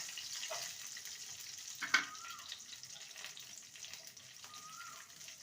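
Raisins fry in a pan while being stirred for jarda semai, giving a faint, steady sizzle with occasional soft stirring scrapes and one sharper clink, close but quiet.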